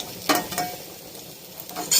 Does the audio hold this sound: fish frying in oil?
yes